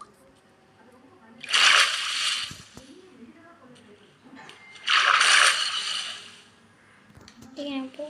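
Two loud, close bursts of splashing water from Minecraft gameplay, each lasting about a second, separated by quieter stretches with a voice talking between and after them.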